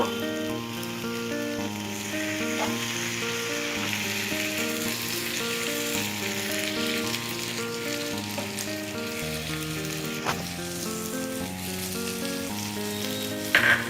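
Curry leaves and finely chopped tomatoes frying in a spicy masala brinjal gravy, a steady close sizzle and crackle with faint stirring throughout, without voices.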